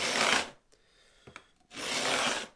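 A file set at an angle in a block rasps across the fret ends of a Stratocaster guitar build. Two close, loud strokes of rough scraping are separated by a short pause with faint light taps.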